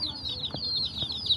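Young chickens peep in a steady stream of high, thin chirps, close by and fairly quiet, overlapping without pause and with no voices.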